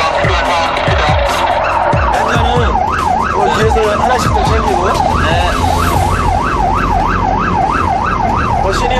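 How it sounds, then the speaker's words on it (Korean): A loud fire engine siren wails up and down in a fast, rhythmic cycle, close by, over rumbling traffic noise on a congested road. "요란한 사이렌 소리."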